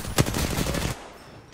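Automatic weapon fire in the shooter game Apex Legends, a short loud burst of rapid shots lasting under a second that fades into quieter background, then picks up again at the very end.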